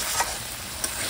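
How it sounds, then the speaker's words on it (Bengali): Meat being stir-fried with spices in a pan, a steady broadband sizzle with two brief louder scrapes of stirring, close and alone without voices. "মশলা কিন্তু দেওয়া হয়ে গেল, এবার হচ্ছে কষানো"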